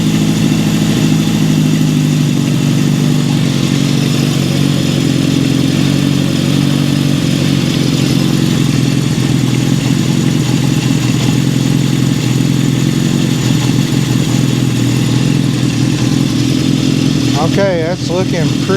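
A 1972 Honda CB750 Four motorcycle engine idles steadily at close range, a continuous low rumble running the whole time, with a brief higher rising tone near the end.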